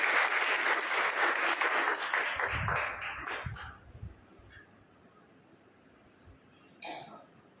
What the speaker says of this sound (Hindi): आइए ताली के साथ